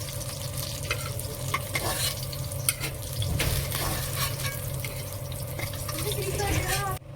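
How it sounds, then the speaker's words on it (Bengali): Fried fish lifted out of hot oil in a home kitchen while cooking macher jhol, with steady close sizzling and frying hiss, scraping stir sounds and occasional clinks throughout. "মাছ ভাজা হয়ে গেছে, এবার তুলে নিচ্ছি"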